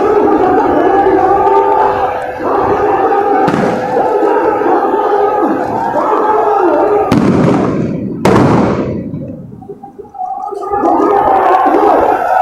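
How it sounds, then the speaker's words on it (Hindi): Tear gas shells bursting at a crowded political protest rally in Kolkata, loud sharp blasts cutting through a constant roar of crowd noise, with shouting voices throughout and a brief lull before the din returns. "अब आंसू गैस के गोले कैसे फट रहे हैं"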